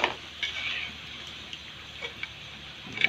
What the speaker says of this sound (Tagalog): pwede na ni siya magisa na og sibuyas og bawang